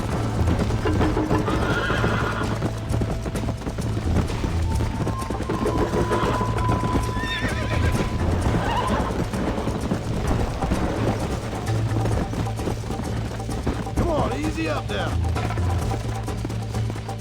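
A galloping horse in Red Dead Redemption pounds along with steady hoofbeats and repeated loud neighs and whinnies, set against constant game ambience and a talking player.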